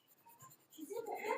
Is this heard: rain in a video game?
no